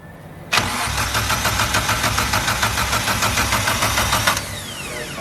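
A big-turbo Toyota Starlet with a straight-through exhaust and no muffler cranks and fires abruptly, then runs loud and close with a rough, pulsing idle before cutting off sharply.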